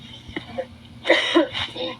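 A couple of short, rough coughs, near and moderately loud, with soft voices faintly in the background.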